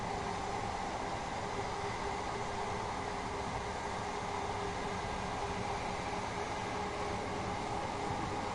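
A Class 377 electric multiple unit in OD Simulation Gaming livery passes heading southbound in Train Sim World 5, a steady broadband rush of rail noise and hum that holds at an even level throughout with no talking.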